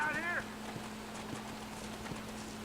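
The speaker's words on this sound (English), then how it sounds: "That's a guy on a horse." Horse hooves clip-clop in the Red Dead Redemption western game, a steady series of soft, evenly spaced hoofbeats under a low engine-like hum, briefly overlapped at the start by a short whistling tonal call.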